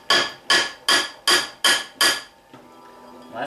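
Six sharp, evenly spaced hammer blows on a septarian stone being shaped into an amulet, loud and close, each strike ringing briefly before a quieter ringing tail at the end.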